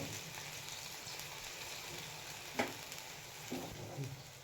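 Mustard-seed tempering for plain besan dhokla, splashed with water and salt, sizzles and crackles steadily in a hot pan, with a sharp pop midway and a few brief clatters near the end, no talk.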